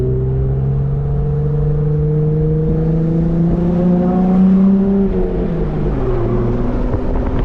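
A Jeep Gladiator driven with its roof off accelerates on the road, its exhaust a loud, steady drone with rising and then dropping engine tones, mixed with wind and road noise and no voices.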